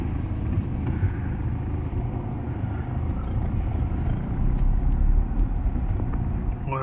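A safari vehicle drives at night through Jim Corbett, its engine a steady low rumble with road and wind noise throughout, close and continuous.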